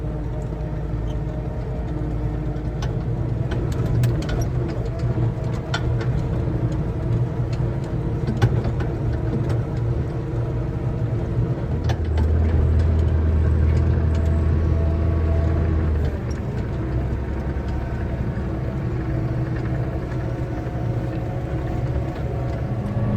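Steady low engine drone of a forage harvester and tractor chopping corn silage, loud and close, with a heavier rumbling surge partway through.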